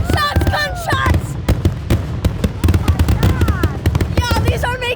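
An up-close fireworks finale, with dense rapid cracks and booms firing in quick bursts like gunfire while excited spectators shout and cheer over the barrage.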